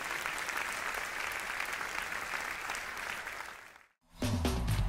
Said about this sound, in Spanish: Un aplauso grande al Señor.